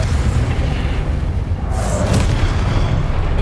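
A loud booming blast from the Confringo fire spell in Hogwarts Legacy, a dense rumbling explosion that sustains heavily throughout, with a bright burst and whoosh flaring up partway through.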